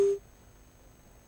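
A telephone busy tone after a dropped call on a live call-in business program, a short steady beep that cuts off quickly into quiet line hiss.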